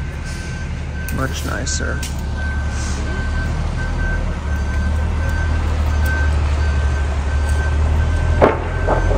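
A cement truck reverses on a residential road, its reversing alarm beeping in a steady repeating rhythm over a low rumbling engine, with a brief comment spoken partway through and a hiss of air brakes near the end.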